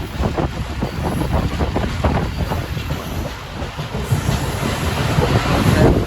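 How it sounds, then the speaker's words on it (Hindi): The Bolan Mail passenger train rolls into Landhi railway station, its wheels clattering in a rapid, steady clickety-clack with a rumbling carriage noise that swells louder near the end. "लाडी रेलवे स्टेशन पहुंच रही है"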